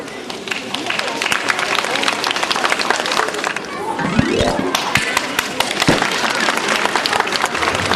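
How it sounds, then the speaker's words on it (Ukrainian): Loud applause from a crowd at a first-day-of-school ceremony welcoming kindergarten children, sustained dense clapping throughout with a brief swell in the middle and some background noise. "Тож зустрічайте їх гучними оплесками"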